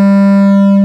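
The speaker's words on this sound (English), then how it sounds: "It's a lot cleaner sine wave." A subwoofer in a test box plays a loud, sustained low sine test tone, steady and unwavering with faint harmonics above, ending abruptly.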